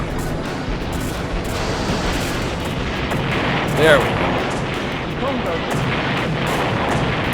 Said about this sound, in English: Oh my god, the explosion noises.